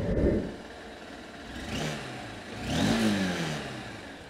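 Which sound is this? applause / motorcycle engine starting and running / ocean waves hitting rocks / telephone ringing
motorcycle engine starting and running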